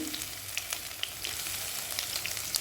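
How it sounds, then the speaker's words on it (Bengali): Chopped garlic hits hot oil in a pan while cooking loitta fish, giving a steady close sizzle dotted with small pops and crackles, alone without voices. "তেলটা গরম হয়ে এসেছে এখানে দিয়ে দিচ্ছি রসুন কুচি"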